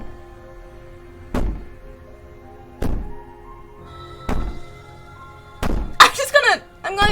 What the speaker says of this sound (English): Maybe the banging and wailing will stop if you just don't.